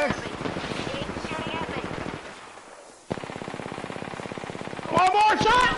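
Rapid automatic gunfire rattles in long bursts during an Apex Legends firefight, breaking off briefly mid-fight before resuming, with excited voices breaking in near the end.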